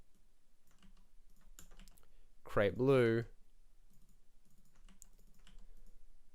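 Light clicking of keys on a computer keyboard while typing PuzzleScript game code, faint scattered taps around a short spoken phrase.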